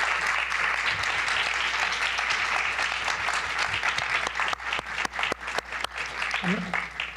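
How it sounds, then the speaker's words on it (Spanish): A conference audience on cities and urban development applauds the panelists with dense, sustained clapping that thins toward the end into a few distinct louder claps, while a voice speaks faintly underneath. "Quiero pedirles a todos ustedes un aplauso para estos maravillosos panelistas, por favor."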